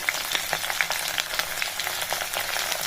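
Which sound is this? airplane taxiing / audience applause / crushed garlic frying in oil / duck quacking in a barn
crushed garlic frying in oil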